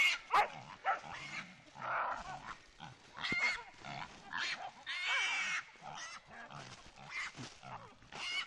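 Several dogs grunting and barking in bursts, fairly close, with snuffling and movement between calls.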